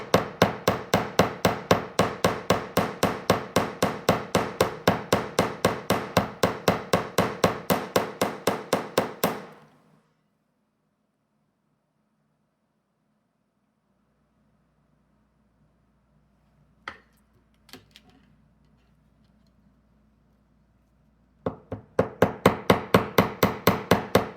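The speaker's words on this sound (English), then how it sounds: "And then I'm hammering away from the end." Metal wire for a wire-wrapped bracelet is hammered in a fast, even run of close, sharp strikes for about nine seconds. After a long quiet pause with a couple of faint knocks, the rapid hammering starts again.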